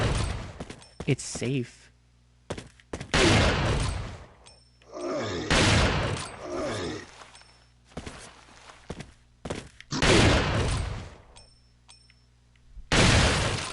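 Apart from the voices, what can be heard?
shotgun gunfire in the video game Resident Evil 4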